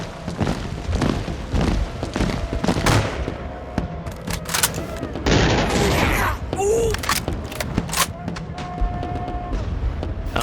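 Musket volleys for a Battle of Waterloo scene, British lines firing on Napoleon's Imperial Guard; loud overlapping cracks and bursts, ragged and continuous, with a sustained roar of fire midway and scattered shots after.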